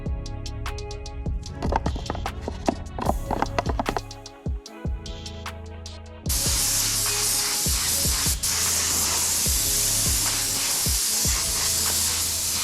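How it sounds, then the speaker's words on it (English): Spray gun applying Cerakote coating mixed with catalyst to car parts during an Evo VIII rebuild, a steady loud hiss that begins about midway and runs continuously, following a stretch of clinking and background music. "Get it mixed up and we can start spraying."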